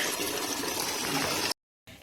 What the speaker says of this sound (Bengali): ও ধুচ্ছে, দেখো জলটা বেরোচ্ছে